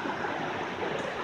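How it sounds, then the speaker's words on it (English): Junaluska Creek, a trout stream in Cherokee County, North Carolina, rushes past in a steady, dense broadband wash, close and continuous, with no voices. "So here's a good access to the Junaluska Creek."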